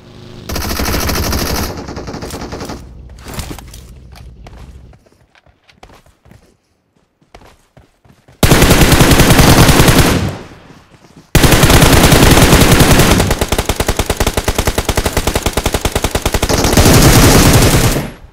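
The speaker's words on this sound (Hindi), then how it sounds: "भाई कौन कौन सी गन नहीं चल रही है तुम बस सुनो यहाँ पे आवाज़ें" Rapid automatic gunfire from several weapons in the BGMI / PUBG Mobile battle game comes in loud, dense bursts, with sporadic shots and quieter gaps between heavy sustained volleys.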